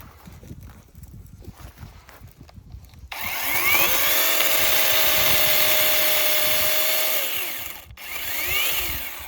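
After some clicking and handling noise, a DAWREEK MK10 cordless pruning saw whines up and cuts steadily through a thick branch for several seconds, stops briefly, then starts again.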